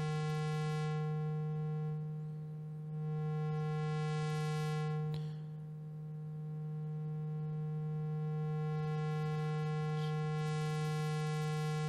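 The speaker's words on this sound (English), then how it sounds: "the low pass filter is cutting out the high pitch noises" Sustained synth tone from the Moog Model 15 app routed through a low-pass filter into a high-pass filter; a steady, buzzy drone holds throughout while its brightness swells and dips as the filters move.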